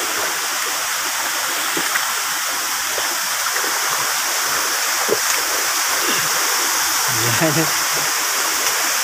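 San Jose Falls in Llorente, Eastern Samar, a waterfall that roars as a loud, steady broadband wash throughout, with a brief voice heard faintly over it.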